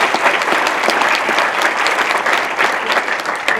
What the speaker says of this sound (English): let's give a big round of applause here